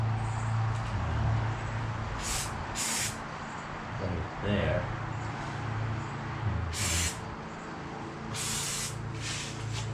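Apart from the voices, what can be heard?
spraying VW convertible top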